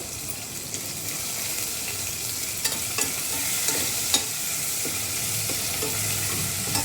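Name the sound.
ginger garlic paste frying in oil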